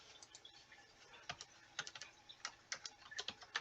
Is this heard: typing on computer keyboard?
yes